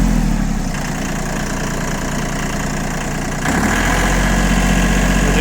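ISEKI TA317 Japanese tractor with a front bucket, its engine running at a steady idle with a low chugging rumble; roughly midway the note shifts and rises slightly, as if the throttle is nudged, then holds steady.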